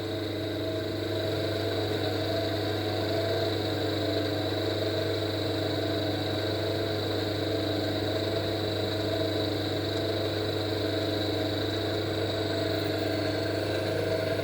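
Single-phase motor-generator set running steadily with 25 V excitation applied to the generator, a constant mid-pitched hum and whir with a strong low tone and faint vibration, close and unchanging throughout.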